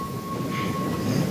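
Trains rumble past in a wartime film scene about reinforcements headed to Normandy, a steady, loud rolling roar with a thin whine riding over it and no talking.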